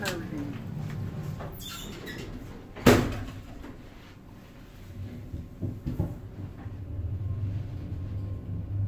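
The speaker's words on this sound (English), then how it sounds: "Door closing." A Liftec reception lift at the Hilton in Nottingham, modernised in 2006, slides its doors shut with a single sharp thud, followed by a quiet hum and faint rumbling as the car settles.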